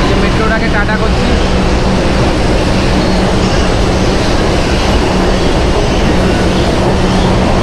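A Kolkata East West Metro train pulls out of Sovabazar Sutanuti station, a steady loud rumble and rail roar with broad noise that stays constant throughout.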